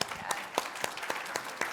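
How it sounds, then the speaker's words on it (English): Audience applause at a water summit session in Orange County, a moderate, continuous patter of clapping from a seated crowd with periodic louder claps standing out, steady throughout. "give him a round of applause if you would,"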